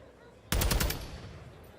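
A quick burst of automatic gunfire in a Call of Duty League championship match: rapid rattling shots that start abruptly and stop after about half a second, leaving a fading tail of game noise.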